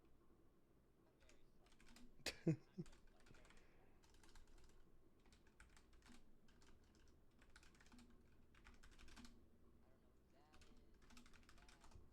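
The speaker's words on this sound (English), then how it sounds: "I'm just typing this out for him because he's slow." Someone types on a computer keyboard, producing quiet bursts of clicky keystrokes in uneven runs with pauses, one sharp louder knock, and faint speech in the background.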